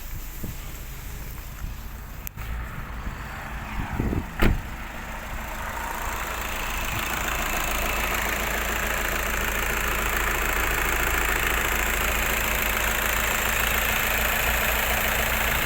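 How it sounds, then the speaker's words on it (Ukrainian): A 2012 Volkswagen Passat 2.0 TDI diesel engine idles with a steady, even hum that grows slightly louder and holds, accompanied by a couple of brief clicks early on. "Послухаємо, робота мотора ідеальна."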